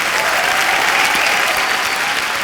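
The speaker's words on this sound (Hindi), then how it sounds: "जोरदार तालियां एक बार" Loud, continuous applause from a studio audience on a Bollywood comedy talk show, a close wash of clapping that lasts throughout.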